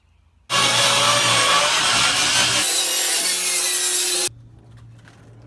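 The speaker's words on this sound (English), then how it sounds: "Cleaning off the old caulk on the window trim so it can slide back on." Old caulk scraped off window trim during a window replacement, a loud, continuous abrasive rasping that runs steadily for about four seconds and then cuts off abruptly, leaving a faint background hum.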